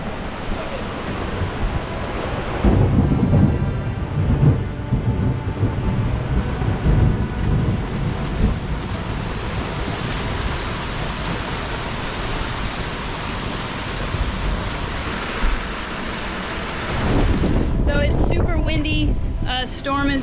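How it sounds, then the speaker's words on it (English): Storm gusts on a moored boat: strong, steady roaring wind and rushing noise buffet throughout, loud and close, with heavier blasts surging near the start and end. "A storm is just blowing through and a big blow just came through"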